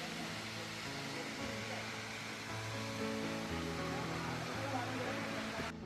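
An ice-cold mountain waterfall on the road from Munsiyari to Dharchula pours in a constant, full rushing hiss, while someone talks over the steady roar of the water.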